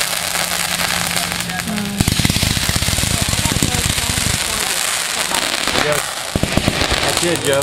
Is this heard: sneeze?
no